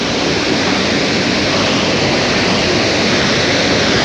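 A small waterfall, Cachoeira do Dodô in Chapada das Mesas, gives a steady, close rushing roar of falling water that stays even and unbroken throughout, with no voices.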